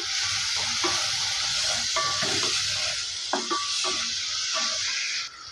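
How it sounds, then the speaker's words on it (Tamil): Cumin seeds and radish sautéing in a pan for radish chutney, a dense continuous sizzle with repeated light metallic scrapes and taps of a spoon, close and even throughout. "இப்போ இதில் கொஞ்சமாக நம்ம ஜீரகம் சேர்த்து நம்ம அதை வதக்கி எடுத்துக்கலாம்"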